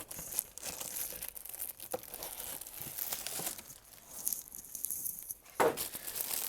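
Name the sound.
unwrapping new Toyota Tundra air filter from packaging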